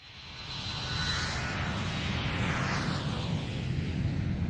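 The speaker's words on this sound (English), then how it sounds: "Airplane sounds." A propeller airplane engine in Ace Attorney: Spirit of Justice drones in a steady, loud roar that swells in the first second and then holds for the rest of the clip.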